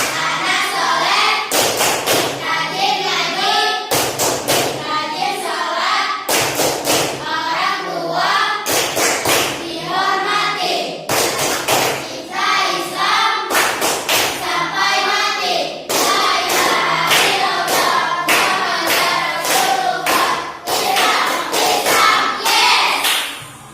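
Children chant the tepuk anak soleh clapping rhyme in a classroom, loud rhythmic claps in repeated bursts alternating with sung call-and-response lines, short pauses between phrases.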